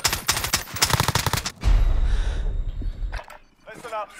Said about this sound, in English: he's shooting me underneath